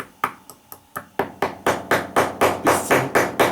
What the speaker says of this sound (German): Mit dem Hammer kann ich jetzt